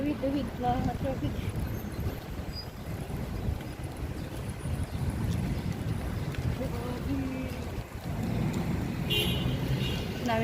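Busy road traffic in Qatar: a dense, continuous rumble of passing cars with an occasional horn toot, heard under people chatting nearby.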